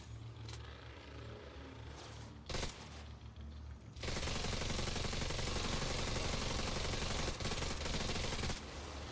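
Assault rifle gunfire crackles in The Division 2 video game, opening with a few scattered shots and then swelling into a sustained, dense burst of rapid automatic fire with vehicle-like rumble underneath.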